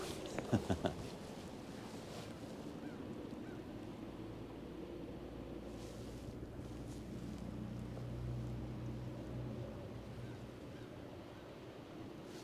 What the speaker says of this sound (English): Still had the outboard running.